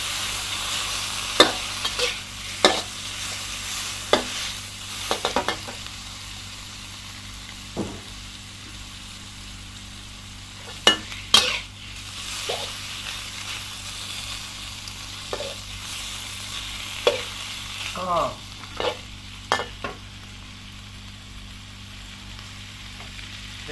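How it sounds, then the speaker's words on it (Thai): Bacon frying in coconut oil in a pan, with steady sizzling throughout and repeated sharp clicks and scrapes of stirring, no talking. "ผมทำใช้น้ำมันมะพร้าวทอด"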